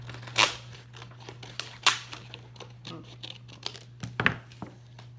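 Scissors snip through a strip of paper, giving several crisp cuts spaced about a second or more apart, each with small crinkly rustles between them over a steady low hum.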